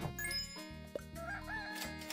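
A brief cartoonish rooster crow from the animal auto-battler game Super Auto Pets, set over a bright, tinkling game-music loop with no voices.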